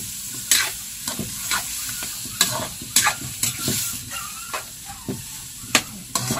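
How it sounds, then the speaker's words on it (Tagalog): Stingray pieces fry in hot oil with black beans, a steady soft sizzle broken by sharp crackles and spatters as the food is stirred and turned, close and fairly quiet. "Luto-luto sa mantika."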